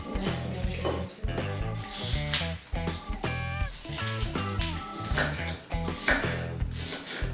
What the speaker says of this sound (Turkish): Tamam, taze soğanları şimdi kes istersen.